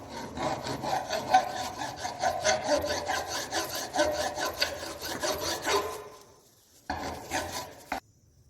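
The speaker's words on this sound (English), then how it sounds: "with the help of rough file we will remove this burr from" A rough hand file is pushed back and forth across a metal workpiece clamped in a bench vice, taking a burr off in a steady run of rasping strokes, then a short pause and a few more strokes.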